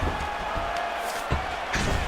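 A virtual arena crowd in the EA Sports UFC 5 fighting game roars and cheers in a dense, continuous wash of noise, with a few sharper bursts rising out of the steady din.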